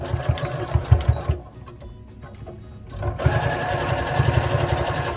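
A sewing machine stitches a 6mm seam with backstitching on a fabric teddy bear, a steady close mechanical whir that pauses briefly midway and then resumes.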